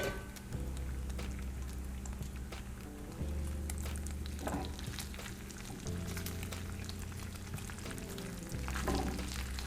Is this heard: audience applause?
no